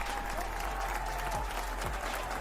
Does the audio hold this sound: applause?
yes